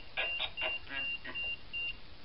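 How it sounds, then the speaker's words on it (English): An electronic device in a hotel sounds a run of about seven short, evenly spaced high beeps, faint and close, with no talking over them. "Damn, it's beeping."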